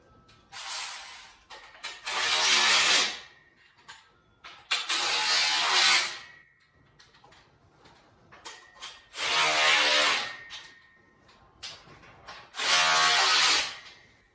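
Combo wrench tightening hex bolts on a RitFit M1 Smith machine: four separate loud bursts of ratcheting, rasping metal noise close by, with short quieter clicks and pauses between them.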